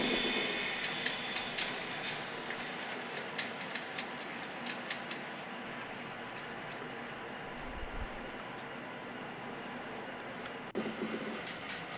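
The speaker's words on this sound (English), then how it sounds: "he's running this train like a pro" A model train rolls steadily along a home layout railroad with a soft continuous rumble and light rhythmic clicking of wheels over track joints, heard alone at moderate distance.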